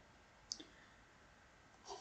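A single soft mouse click on an apply button in the Shotcut video editor, short and quiet over a faint room hiss, with another faint click near the end.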